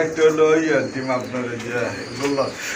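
Bombay pigeons coo up close in low, throaty, rolling calls, under people talking at a pigeon seller's stall.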